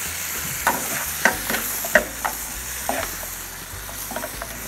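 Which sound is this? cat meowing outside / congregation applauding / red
red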